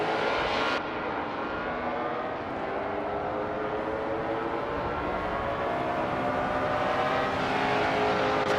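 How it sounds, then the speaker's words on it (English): F1 1950 race cars in a video game roar past in a continuous loud engine drone, pitches shifting as cars pass, with no voices. "The F1 1950 cars are pretty evenly matched here"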